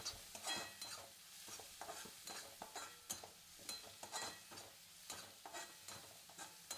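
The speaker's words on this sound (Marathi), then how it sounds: "या मिरचीला पण तेलामध्ये भाजून घ्यायचंय." Green chilies roasting in oil for a Maharashtrian thecha: a steady crackling sizzle with frequent sharp scrapes and taps of a utensil stirring against the pan, close and fairly loud, no voices.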